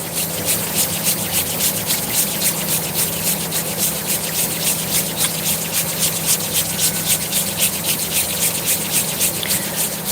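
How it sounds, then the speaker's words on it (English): Palms rubbing together in a steady, continuous brushing rhythm during a breathing practice, close and fairly loud, running evenly for about ten seconds without speech. "So as you inhale, begin to rub your palms together."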